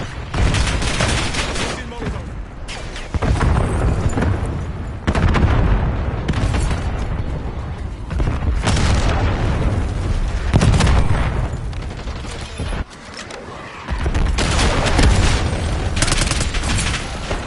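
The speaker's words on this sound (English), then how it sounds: "Enemy napalm strike incoming. Enemy Hellstorm launch detected." Napalm strike and Hellstorm missile explosions in a military shooter game, a dense run of booming blasts and rattling gunfire that rolls on almost nonstop, loud and close, broken by brief pauses.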